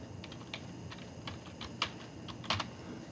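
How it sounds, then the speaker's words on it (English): Someone types on a computer keyboard at close range. Soft, quiet keystrokes come in an irregular rhythm over about three seconds, and there is no talking. "Okay, got Snowflake typed in"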